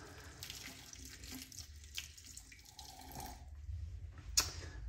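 Tap water running into a sink to rinse off after a wet shave, a steady faint splash with a brighter burst near the end, no talking.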